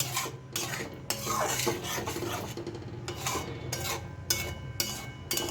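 Spinach paste is stirred into a spice mixture in a pan, with rhythmic rasping scrapes of a spoon against the metal repeating in bursts, close and fairly quiet, and no voices.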